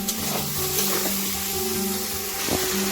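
Potato curry masala with a splash of water, stirred in a pan while it sizzles, a continuous wet hiss with faint scraping strokes, close up and steady.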